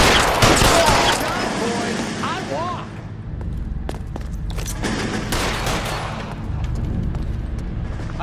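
Gunfire from a shootout in the video game L.A. Noire: a dense burst of rapid shots at the start, then scattered single loud reports over ongoing game ambience.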